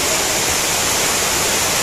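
Sarugudu waterfall pours with a dense, loud, continuous roar of falling water, steady and close throughout with no breaks and no voices.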